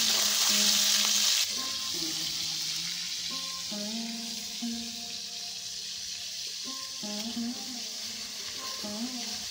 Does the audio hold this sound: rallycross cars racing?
no